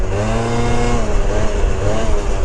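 Stock Honda Elite 50 scooter engine revving hard, a loud, buzzy, continuous two-stroke-style drone with pitch rising and wavering as it accelerates, close and steady with wind noise, no talking.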